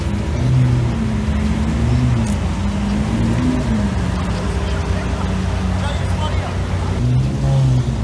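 Lamborghini Aventador Ultimae fitted with a GINTANI exhaust, a loud, steady V12 drone with slight revving swells throughout, heard close up with voices talking in the background.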